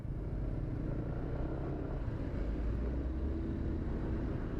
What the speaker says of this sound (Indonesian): Ini kenapa truk dah?